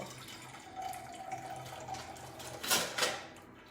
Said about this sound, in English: I'm just gonna pour this grease in the can here